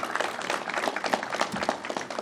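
Brief round of applause for County Executive Steve Bellone at a government press event, scattered moderate clapping from a modest crowd, fairly quiet and uneven.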